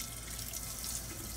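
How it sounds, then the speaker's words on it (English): Water from a tap runs steadily into a pot, a faint, even hiss and splash with no talking. "Put some water on the pot here while I let it be soaking here while I'm working."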